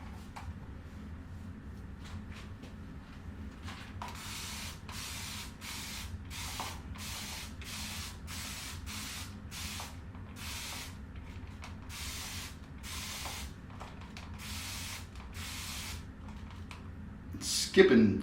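Oud Spice fragrance is sprayed from an atomizer, about a dozen short, crisp hissing bursts in a fairly regular sequence, close to the listener, followed by a brief clatter at the end.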